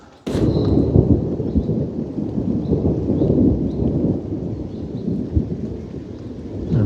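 Thunder rumbling through a stormy woodland, a sustained low roar lasting throughout, fairly loud and continuous with a rain-like wash and no talking.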